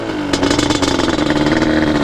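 A Yamaha Banshee ATV's rebuilt two-stroke engine revving loudly and close, a dense, raspy buzz that rises and pulses steadily throughout.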